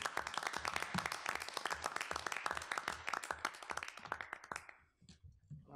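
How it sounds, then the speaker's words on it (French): An audience at a municipal council meeting in Amqui applauds to honour a local citizen, with dense steady clapping for about five seconds that then thins to a few scattered claps. "faites une main d'applaudissement"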